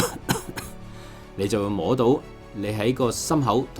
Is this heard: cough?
yes